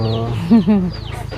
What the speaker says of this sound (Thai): นางไก่ทองก็อยู่นี่